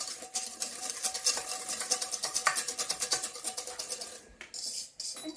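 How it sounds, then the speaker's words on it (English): Thick rye bread batter is whisked in a bowl, a fast run of rhythmic scraping strokes close up, steady for several seconds before pausing with a couple of final strokes. "So give that a nice whisk, get lots of air incorporated in."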